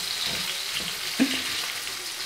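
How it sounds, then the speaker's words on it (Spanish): Onion frying in a pan, a steady soft sizzle with a brief clink or stir partway through, moderately close and without speech. "Refriéndose la cebollita."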